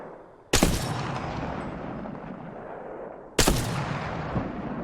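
Two loud, sharp sniper rifle shots from Apex Legends crack a few seconds apart, each followed by a long rumbling echo that slowly fades.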